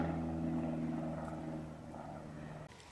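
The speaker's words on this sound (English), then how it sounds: "That plane is circling around me now." A steady, low droning airplane engine hum, faint and distant as the plane circles overhead, drones on without a break, then a soft thump near the end.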